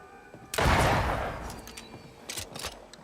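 A single loud gunshot in the game Banishers: Ghosts of New Eden bursts out sharply, then trails off into a lingering decay with a few fainter thuds and clicks afterward.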